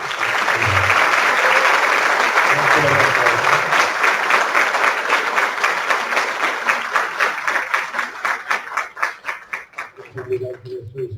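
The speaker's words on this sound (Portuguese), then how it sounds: "solicito então que todos me acompanhem com uma efusiva corosa salva de palmas" Enthusiastic audience applause for the speaker at an academic talk on Brazilian agribusiness, dense clapping that stays full for several seconds then thins into scattered claps, with a few voices at the start and end.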